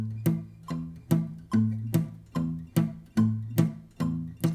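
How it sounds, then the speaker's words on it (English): Acoustic guitar chords strummed in a steady rhythm with the left hand lightly pulsing on the strings, giving each strum a clipped, slightly muted decay; close, moderately loud, no talking. "With the left hand, I'm pulsing on the strings just a little bit."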